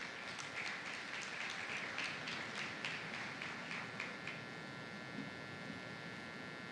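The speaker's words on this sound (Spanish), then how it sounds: "con un fuerte aplauso" Audience applause welcoming a human rights minister at a forum opening, a steady wash of many hands clapping at moderate distance that thins out toward the end, with no voices over it.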